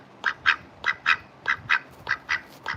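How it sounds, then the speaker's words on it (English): A duck quacks repeatedly in a steady run of about nine loud, close calls, evenly spaced with short gaps and no talking. "Somebody said that ducks belong outside."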